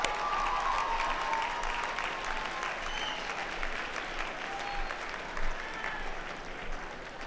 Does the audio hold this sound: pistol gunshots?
no